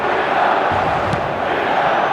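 A stadium crowd in the eFootball game, AC Milan against Parma, sends up a steady, dense roar with no breaks and no voices standing out.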